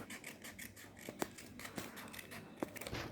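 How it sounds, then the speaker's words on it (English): Scissors slowly cutting paper butterfly wings for a 3D craft, a close, quiet run of rhythmic snips and crisp blade closings with a few sharper clicks, no talking. "Now you can trace the lines and then cut them slowly."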